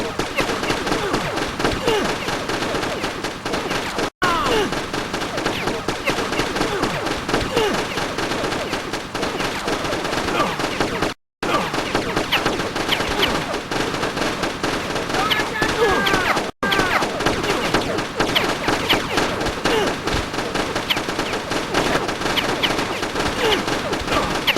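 Enemies in the Wii video game Far Cry: Vengeance fire at the player in continuous, rapid bursts of gunfire across the whole stretch, while a voice talks over it.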